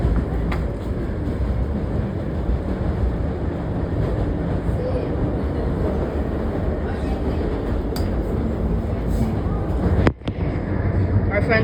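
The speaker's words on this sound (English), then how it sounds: "now the D is running on the F line" A New York subway D train running on the F line toward Coney Island, heard from inside a car as a steady, loud rumble throughout, with a brief sharp clatter near the end.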